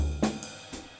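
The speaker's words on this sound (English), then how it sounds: "I'm playing bass snare and then a hi-hat after the last ride." A quick burst of drum kit strokes after a ride cymbal pattern: a low bass drum thump and snare crack with cymbal shimmer and hi-hat, three hits in about a second.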